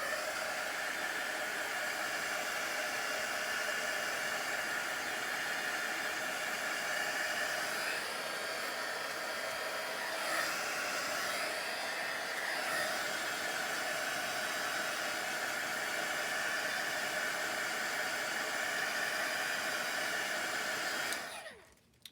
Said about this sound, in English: I'm going to hit that with the heat tool real quick